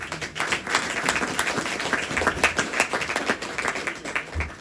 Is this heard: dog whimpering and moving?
no